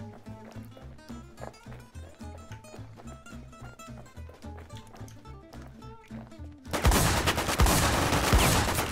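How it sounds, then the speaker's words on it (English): Gunfire in the survival shooter Infestation: a sudden burst of loud rapid shots near the end, after a stretch of rhythmic music, close and harsh, with no talking. "Shoot that guy running towards the loot."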